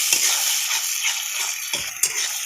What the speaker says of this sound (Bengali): ভালো করে আমি কষে নেব